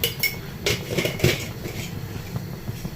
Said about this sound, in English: just give it a stir, and a little sugar.